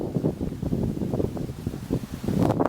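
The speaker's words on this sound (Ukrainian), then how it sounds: "Теплий такий хороший вітер, наганяє хмари" Steady, warm gusting wind buffets the microphone outdoors by a river near Zhytomyr, a continuous low rumble with rustling swells that rise and fall, loudest near the end.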